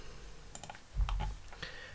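Typing on a computer keyboard during a Linux Mint software install, with a short burst of soft, quick key clicks close by and no voices.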